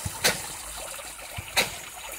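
Water trickling into a water intake drum outdoors, a soft steady dribble punctuated by two brief brighter splashes, fairly close and quiet.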